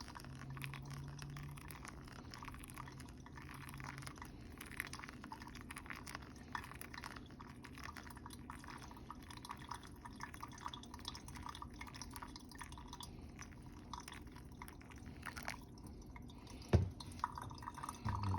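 Water pours and drips over coffee grounds during pour-over brewing with a Fellow Ode 2 burr grinder setup, a faint, steady trickle of fine dripping close by and no talk.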